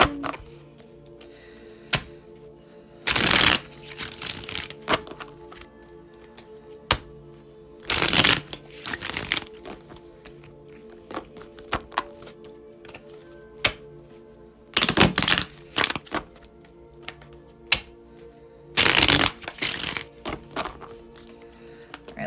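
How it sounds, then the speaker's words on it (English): Tarot cards being shuffled during a live reading, with four distinct riffling bursts spaced several seconds apart, crisp and close, with faint taps and handling noises between them. "Let's do 3 more shuffles."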